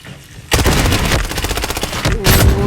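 Rapid automatic gunfire in the shooter game Blood Strike, sounding as loud sustained bursts of shots, a brief pause, then another burst.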